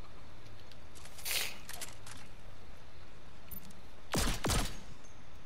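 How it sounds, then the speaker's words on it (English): Gunfire from a weapon being test-fired in the video game Fortnite: a short burst early on, a few scattered shots, then two loud, sharp cracks near the end against a quiet background. "I'm just testing this gun."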